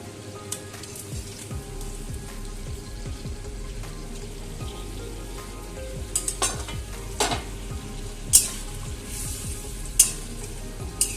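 Cauliflower florets cooking in a pan with a splash of cashew or yogurt-paste water, producing a soft, steady sizzle with occasional sharp clicks and spoon knocks, close and unaccompanied by talk.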